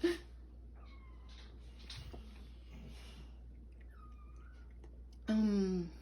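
A domestic cat meows indoors: a few soft, rising meows spaced apart, then one loud, drawn-out meow close by at the end.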